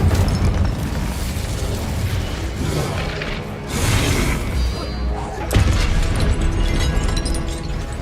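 Fiery spell blasts in Hogwarts Legacy, a broad rushing burst swelling around the middle and another sharp whoosh-boom near the end, over a dense, loud backdrop of game effects.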